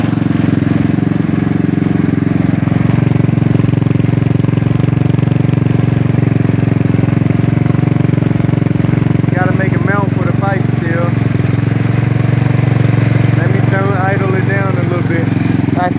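Big bore GY6 150cc scooter engine running steadily, a loud, close, continuous drone throughout, with someone talking over it partway through.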